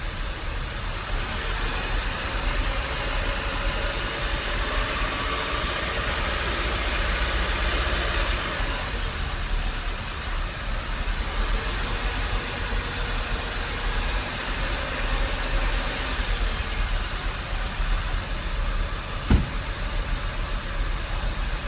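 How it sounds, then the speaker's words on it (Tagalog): A car engine runs steadily while the accelerator is pressed during a check of the air-conditioning pressure; a loud, close, sustained drone that swells slightly and eases, with a single sharp click near the end. "Kaya bombahin ko lang yung aking silinyador."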